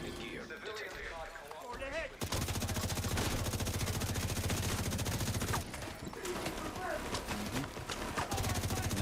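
Sustained automatic gunfire in The Division 2 PvP combat, rapid loud bursts of shots firing almost nonstop after a brief lull at the start, with a short pause midway before the shooting resumes.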